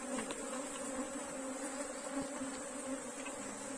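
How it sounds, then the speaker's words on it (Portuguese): Apis honeybees buzzing steadily around a hive during a colony split, a dense continuous drone of many insects close by with no talking. "Para não ficar saindo a abelha."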